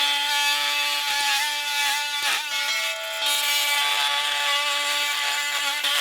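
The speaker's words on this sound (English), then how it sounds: "what we'll be using is an oscillating multi-tool, and I'll be digging it out here and here and on top" An oscillating multi-tool buzzes steadily at a high pitch, loud and close, as it digs out a hardscape light, with a few brief dips where the blade shifts against the material.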